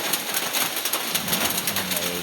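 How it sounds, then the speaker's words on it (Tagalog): Heavy rain pours steadily beside a small shop during the rainy season, a dense continuous wash of drops on surfaces with faint background sounds mixed in. "Lakas ang ulan talaga."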